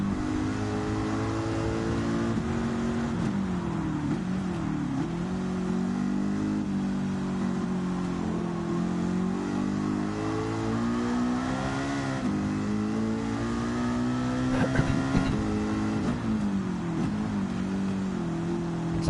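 A Ford Mustang race car engine in Gran Turismo 7 drones through a long race run, its pitch climbing and dropping through shifts and corners, loud and steady with no talk.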